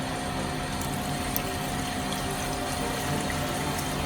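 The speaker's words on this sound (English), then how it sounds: "I'm going to cover it with water." Water pours steadily into a pan of bone broth ingredients, a continuous close rushing splash with no pauses and no talk.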